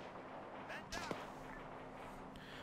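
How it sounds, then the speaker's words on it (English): Distant gunfire in a war video game set in a Second Korean War: a few muffled, brief cracks and booms over a steady low background hum, faint and far off. "Yeah, they're firing at something."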